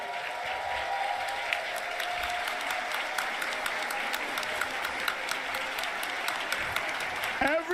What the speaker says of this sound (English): I want to give y'all a round of applause for the staff